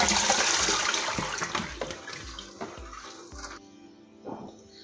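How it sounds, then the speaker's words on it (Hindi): Water from soaked potato slices pouring out through a kitchen strainer, a gushing, splashing flow that tapers off over a few seconds with small trickles at the end. "अब हम इसका पानी ड्रेन करेंगे।"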